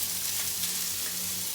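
A thin steak sizzling loudly in a hot pan of rendered fat, a dense, continuous hiss that stays steady throughout, close and without talk.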